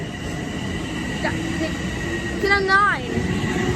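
A train passing at Mineola station, a steady rumbling wash with a brief rising then falling tonal whine near the end, and a person speaking briefly over it.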